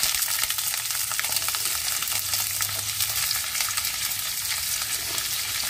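Sliced onion fries in hot oil for a vegetable sambusa filling, a loud, dense crackling sizzle that holds steady throughout with no voices.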